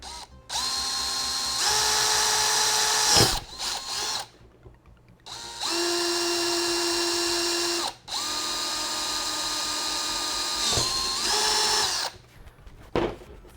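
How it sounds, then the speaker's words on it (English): A power drill with a 1/4-inch bit whines through several bursts, drilling holes in a sandblast cabinet siphon tube, close and loud, rising and dropping in pitch with short pauses between runs; no speech. "I'm just using a 1/4 inch drill bit."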